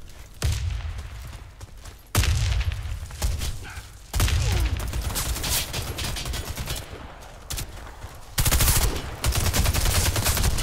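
Rapid bursts of gunfire from the video game Warface, including shotgun blasts, crack loudly and almost continuously in dense volleys with brief gaps between firefights.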